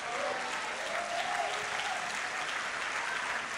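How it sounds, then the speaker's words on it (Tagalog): A church congregation at an evangelism sermon claps loudly and continuously, a dense, even wash of hand claps with no pauses. "Sino masaya pumalakpak ng malakas?"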